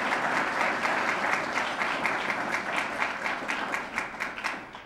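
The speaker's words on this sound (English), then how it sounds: "Let's give them a round of applause" Applause from an audience at a community awards ceremony, a steady dense wash of many hands clapping for the full stretch, fairly close and fading slightly toward the end, with no voices over it.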